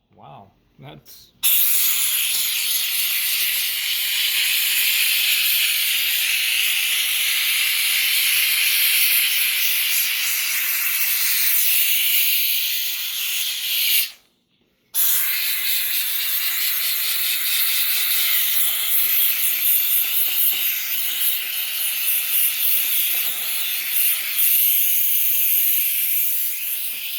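Steam jets from a Grant's handheld steam cleaner onto windows in a loud, continuous hiss close by. It runs for over twelve seconds, stops briefly, then resumes just as strongly for another long burst.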